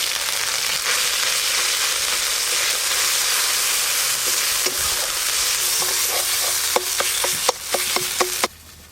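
Spice paste of ginger, cumin and dried chilli sizzles loudly in hot mustard oil with panch phoron. A steady frying hiss runs throughout, and a quick run of spoon or pan knocks near the end gives way to sudden quiet.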